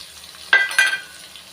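Shallots, ginger and curry leaves sauté in a hot pan with a short, bright sizzle that rises in two quick bursts and then fades, close by and with no voices.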